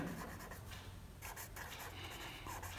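Pen scratching across paper as an accounting entry is written by hand, quiet soft scraping strokes in short bursts, close and faint with no talking.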